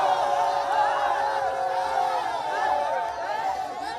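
A crowd of spectators cheers and shouts around a traditional wrestling bout as two young men throw each other to the ground, a steady outdoor din of many overlapping voices.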